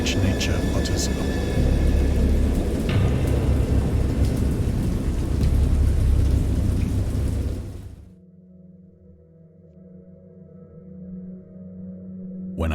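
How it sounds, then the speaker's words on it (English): Heavy rain and rumbling thunder of a thunderstorm fill the first eight seconds loudly, then cut to a much quieter, low rumbling tail, used as a storm sound effect in a horror audiobook. "Indistinct recollections of a great storm sometime after I reached the boat"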